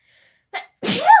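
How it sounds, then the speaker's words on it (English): A single sharp sneeze, preceded by a quick intake of breath, loud and close in a quiet room. "I knew I was going to sneeze as I stopped."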